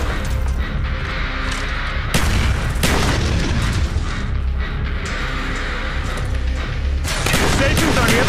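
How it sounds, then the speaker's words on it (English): A frag grenade explosion and gunfire in Call of Duty Black Ops, heard as loud booms and bursts of shots over constant battle noise, with voices talking in between. "Tossing a frag."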